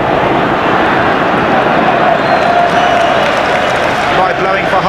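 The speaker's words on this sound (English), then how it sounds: "Applause from Scotland supporters." Scotland supporters in a packed stadium applaud and cheer as half-time arrives at the Euro 1996 England vs Scotland football match, a dense, steady roar of clapping and crowd noise running throughout with a voice over the top.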